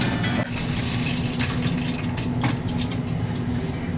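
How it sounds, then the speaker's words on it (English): Water from a Primo refill station machine pours steadily into a bottle, a continuous close splashing stream with faint clicks and no talking. "Place your bottle in machine, press button to dispense water."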